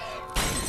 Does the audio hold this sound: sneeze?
no